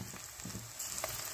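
Green chilies, onions and curry leaves frying in a pan, a brief close sizzle with a couple of soft stirring scrapes, no talk.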